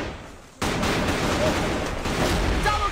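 AK rifle fire in CrossFire during a pro league esports match, a sudden loud burst of rapid automatic shots after a brief lull, sustained and dense to the end, with faint commentator talk beneath.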